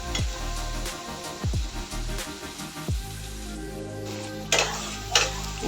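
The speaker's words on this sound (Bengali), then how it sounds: "এখানে আদা, মৌরি আর গোলমরিচ আর কাঁচামরিচ, এটা ভালো করে একটু ভেজে নেব তেলের সাথে।" A spice paste of ginger, fennel, black pepper and green chili fries in oil, sizzling steadily while a spoon scrapes and clinks against the pan in repeated strokes.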